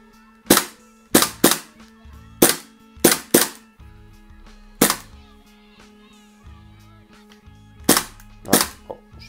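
Roughly a dozen suppressed shots from a Tokyo Marui HK45 tactical gas airsoft pistol with a silencer, snapping loud and close in uneven bursts and singles with short pauses.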